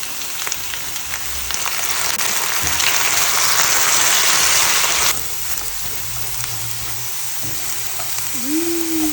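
Steady, loud sizzling of potatoes frying in a pan; the hiss swells, then drops back to a quieter crackle with a few clinks.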